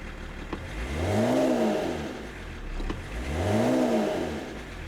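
A BMW 525 TDS diesel engine revs up twice from about 700 rpm idle, each rise swelling then falling back to idle, close and clear with no talking.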